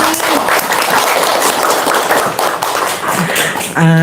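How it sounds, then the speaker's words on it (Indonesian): An audience claps together in a continuous burst of applause, fairly loud and close, before a voice begins speaking at the very end. "Tepuk tangan dulu dong."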